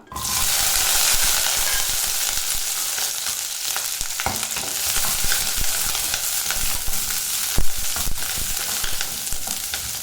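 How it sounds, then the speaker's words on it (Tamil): Green chillies and shallots sizzle and fry steadily in a pan for banana stem chutney, a loud continuous crackle with occasional stirring scrapes, no talking. "அரைக்கிறதுக்கு வதக்க ஆரம்பிச்சிடலாம்."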